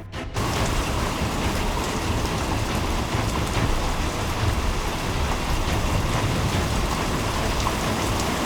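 Very heavy rain pours down in a storm with high wind, a dense, loud, steady roar that holds without a break from start to finish.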